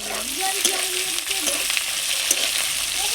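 Chopped capsicum and green chillies sizzle in hot oil for restaurant-style chilli gobi, a steady close frying hiss with a few stirring scrapes across the short stretch, no voices.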